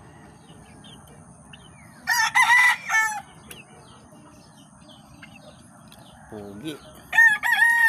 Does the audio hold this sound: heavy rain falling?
no